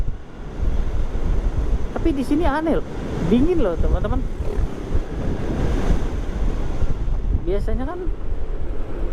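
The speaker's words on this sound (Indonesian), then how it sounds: "anginnya cukup besar ya." Strong wind buffets the microphone on Tanah Barak beach in Bali, with surf rumbling beneath it as a steady, loud roar. Someone speaks over it throughout.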